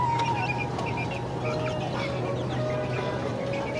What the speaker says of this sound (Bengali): মুরগি দুইটা আছে, এই মুরগি দুইটার বাচ্চা আছে ওখানে।